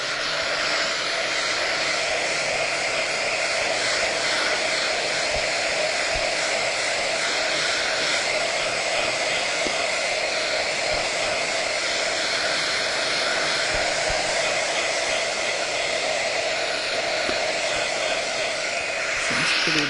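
A hair dryer blowing on a snow globe mould, a constant loud whirring whoosh held steady for about twenty seconds with no speech.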